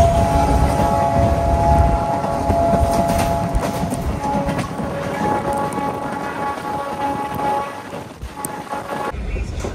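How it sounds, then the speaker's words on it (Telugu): A passing train on the Tirupati–Katpadi main line roars alongside at close range, a loud continuous rumble with rail clatter and a sustained horn-like tone, heard from aboard a neighbouring MEMU train. "సో పక్కనే వేరే ట్రైన్ వెళ్తుంది."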